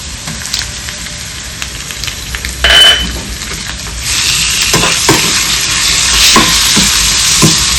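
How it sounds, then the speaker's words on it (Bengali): Steady sizzling of onion and small chicken pieces frying in a pan, with stirring scrapes and brief clatters over the hiss; close and fairly loud, no talking. "পেঁয়াজটা আমার একটু ভাজা হয়ে এসছে আমি এবার এতে চিকেন দেবো"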